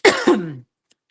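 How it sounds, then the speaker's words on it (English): One close, dry residual cough, a sharp hack followed quickly by a second rougher burst, then silence. "Mine is just this stupid residual cough."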